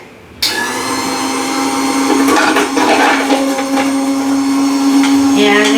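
A Newhai 4-in-1 commercial electric vegetable chopper switched on to chop a single tomato in a small bowl, starting abruptly and whirring loudly and steadily with a motor whine and rattling blade.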